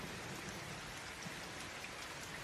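Steady rain falls on surfaces in a constant, even wash of hiss and patter, with dense small drops throughout, distant and soft and with no voices.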